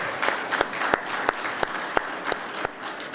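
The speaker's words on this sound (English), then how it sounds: "How about a round of applause for them?" Applause from an audience at a community college tour announcement event honours the sponsors: steady, moderately loud clapping with a few sharper claps standing out, and no voices over it.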